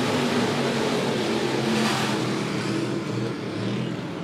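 Late model race cars roaring off a green flag at Monett Motor Speedway, a loud, dense wash of engines accelerating together without pause.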